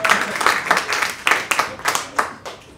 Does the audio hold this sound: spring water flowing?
no